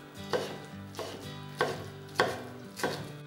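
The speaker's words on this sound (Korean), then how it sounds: "그리고 먹기 좋은 크기로 잘라주세요." A knife chops boiled napa cabbage on a cutting board, giving five distinct, evenly spaced chops close by with no voices.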